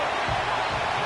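Football stadium crowd roaring steadily through a Falcons–49ers game, a dense continuous wash of cheering with a broadcast commentator's voice faintly over it.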